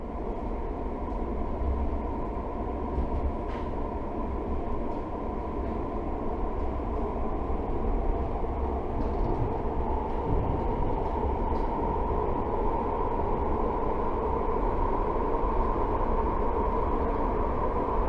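A London Underground train runs toward Heathrow Terminal 4, giving a steady, close rumble of wheels and motors that holds at an even loudness throughout with no talking.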